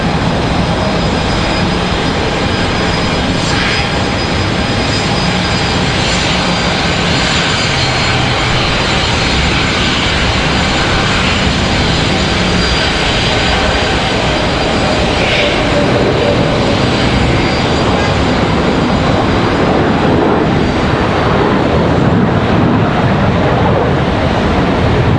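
An older jet airliner departs Charlotte Douglas airport in a steep climb, its engine roar loud, dense and continuous throughout, with a rushing, wind-buffeted edge and no talk over it.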